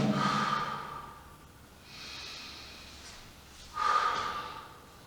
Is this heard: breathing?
yes